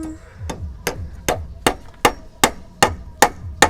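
Nails are driven into wood by hand in a steady series of about nine sharp hammer strikes, evenly spaced and close, each a crisp bright knock.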